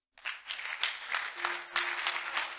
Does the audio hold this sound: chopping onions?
no